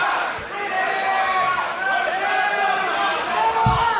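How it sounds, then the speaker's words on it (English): Wrestling crowd at an IWA Mid-South King of the Death Matches 2002 hardcore show, chanting and shouting as one steady roar with rising voices, continuous and loud through the whole stretch. "The crowd's calling for it"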